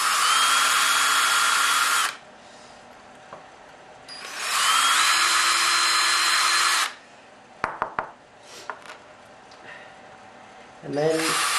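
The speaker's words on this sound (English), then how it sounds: "And then we'll drill the second hole here." A power drill whines loudly in two long bursts while drilling holes for a Dobsonian telescope, then a few knocks and clatters, and the drill starts up again at the end.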